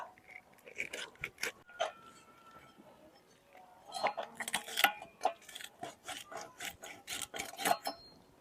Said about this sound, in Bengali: এখন মাথাটা কাটতে নিব